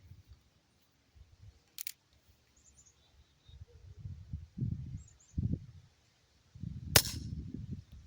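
Shots from a Colt Peacemaker CO2 BB pistol fired outdoors, two sharp isolated cracks several seconds apart, each loud and brief, with low rumbling handling and wind noise between them.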